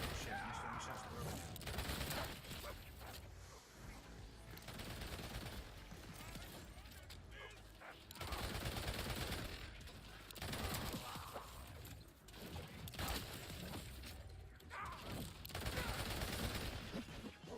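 Dense bursts of gunfire from Borderlands 4 on Ultimate Vault Hunter difficulty, rapid overlapping shots and mechanical weapon clatter running nearly continuously at close range, with someone talking over the action.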